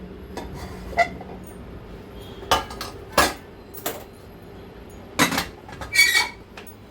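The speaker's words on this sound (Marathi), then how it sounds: "हे बटाटे आणि सुरण मॅश करून घेते अशी स्मॅशरने." A hand masher pressing and clanking through cooked potatoes and suran (elephant foot yam) in a metal pot, giving scattered sharp metallic knocks and scrapes with quiet pauses between them, close up and with no talking.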